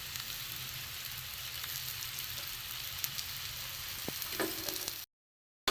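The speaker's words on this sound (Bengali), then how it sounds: "আমার এটা দু পিঠ করে ভাজা হয়ে গেছে।" A potato roll sizzles steadily in oil in a pan, an even, close crackle with a few small pops that cuts off sharply near the end.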